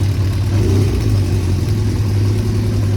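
A close Honda Diversion 600 motorcycle engine drones steadily with a low, throaty hum, held at a fairly constant pitch at elevated idle, slow to come down after a rev.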